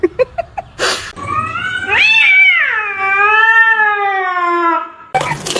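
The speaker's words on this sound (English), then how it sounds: "Sorry, my cat." A cat lets out a long, drawn-out meow close by, with a few short thumps before it and brief bursts of noise around it.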